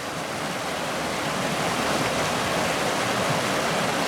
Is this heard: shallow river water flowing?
yes